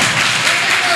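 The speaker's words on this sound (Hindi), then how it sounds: "जोरदार तालियों के साथ" Applause from an audience at a yoga and music stage program, a dense, steady wash of many hands clapping at close range, filling the whole brief moment without pause.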